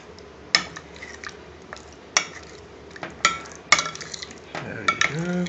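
Paneer cubes being stirred in a pan for tikka masala, with sharp utensil scrapes and clinks against the pan at irregular intervals over a low background, no talking.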